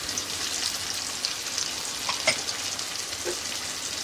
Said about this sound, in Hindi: अच्छे तरीके से भून लेंगे।